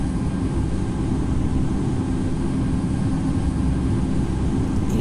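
Airliner engines hold a steady, dense roar at takeoff power in the Infinite Flight simulator game, a constant broadband rumble with no talking.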